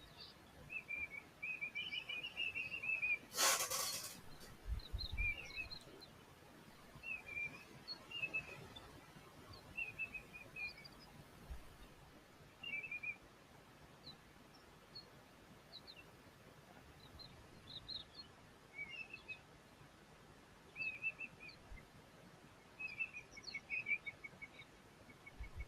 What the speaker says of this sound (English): Those birds calling in the background are red-faced mouse birds, almost that little whistle.